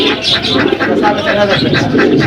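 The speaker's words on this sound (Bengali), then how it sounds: "দেখেন দর্শক, অনেক বড় সাইজের পারবিন জোড়া।" A large pair of parbin pigeons at the busy Jinjira pigeon market in Dhaka coo and stir amid loud crowd chatter and nearby talking, with a constant bustle of market noise.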